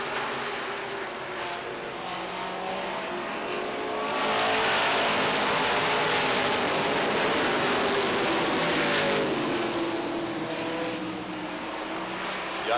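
Race cars compete on the oval at Beech Ridge Motor Speedway in 1992, their engines roaring together as a continuous distant drone that swells louder as the pack passes and then fades.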